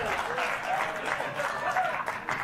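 Applause from a studio audience in a late-night news talk show segment, a steady wash of clapping heard faintly at moderate distance throughout.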